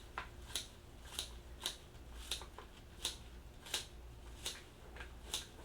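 Pea shoot microgreens snipped down low near the roots with scissors, about nine crisp, evenly spaced cuts close by over a quiet background.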